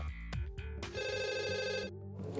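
A telephone rings at a busy emergency call centre for police reports, with a steady electronic ringing tone that holds at close range across several seconds, over a faint low background hum.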